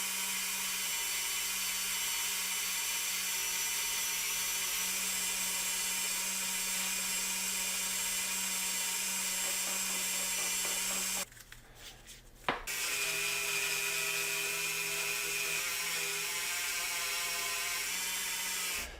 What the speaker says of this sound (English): we're just going to wire wheelie this up quick with a brass wire wheelie